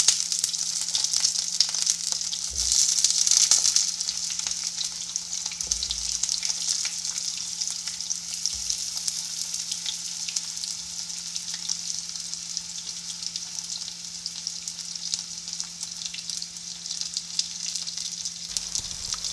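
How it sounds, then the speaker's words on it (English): Potato pieces frying in hot oil with nigella seeds in a pan for a Bengali curry, a steady bright sizzle throughout with occasional soft stirring knocks and a low background hum. "Add some nigella seeds or kalo jire to the oil. Then add the potatoes,"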